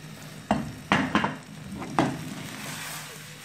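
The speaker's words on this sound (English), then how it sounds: "Mix everything together like that." Grated yam mixture mixed in a pan, a few scraping strokes and soft thumps of a utensil over a faint sizzle, close and brief.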